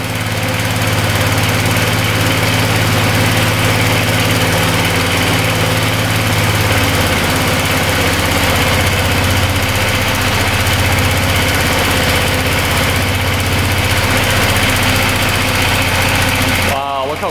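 An old ATV that sat unused for twenty years runs without the choke, a steady, loud, close engine drone with a slight vibrating rattle, continuous throughout with no talk.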